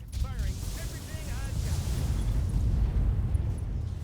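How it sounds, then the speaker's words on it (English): An AC-10 autocannon ammo explosion tears through a mech in the BattleTech video game, a heavy continuous rumble of bursts that builds and persists, with a brief voice early on over the din. "AC-10 ammo explosion, all over the place"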